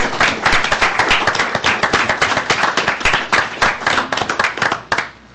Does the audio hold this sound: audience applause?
yes